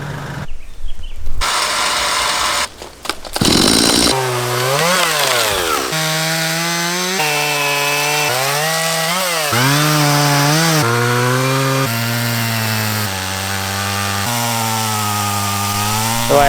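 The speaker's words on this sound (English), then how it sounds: "Chainsaw's out." A chainsaw cutting a tree on a 4x4 track near the Portland sand dunes on the Great Ocean Road, engine loud and close, revving up and down repeatedly in a long run of throttle bursts.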